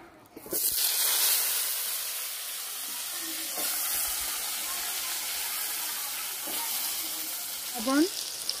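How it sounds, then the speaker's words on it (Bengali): Potatoes fry in hot oil in a home kitchen after cauliflower, giving a steady, close sizzle that runs throughout with a few brief stirring clatters. "এবার কি এই তেলে আলু ভাজা নেব।"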